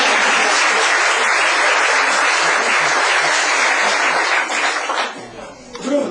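Loud, dense applause from a party audience right after a magic trick, sustained clapping with some laughter mixed in before it thins out and fades near the end.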